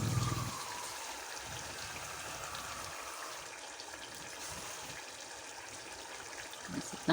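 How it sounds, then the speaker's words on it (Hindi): Water pours into a pot of aloo matar keema, a gentle, continuous trickle and splash heard close and fairly faint, with a few soft knocks of the pot at the very end. "इसमें थोड़ा सा पानी डाल देते हैं।"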